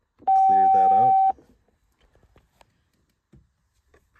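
A Mitsubishi 3000GT factory car phone sounds a steady keypad tone for about a second, a loud single dialing beep that then drops away to faint clicks and near silence.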